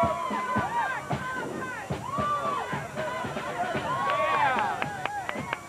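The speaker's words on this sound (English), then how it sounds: "Listen to that ovation from the crowd." Cheering and applause from a large crowd along a St. Patrick's Day parade route in Syracuse, a dense roar of clapping with shouts and whistles rising over it, fairly close and steady throughout.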